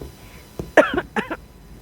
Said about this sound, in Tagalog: Nauubo-ubo pa ako